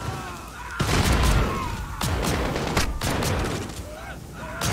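Repeated shotgun blasts in a Modern Warfare campaign firefight, several loud booming shots about a second apart over dense, continuous battle noise.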